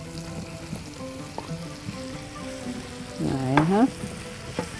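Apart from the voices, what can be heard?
onions added to chicken frying in a pan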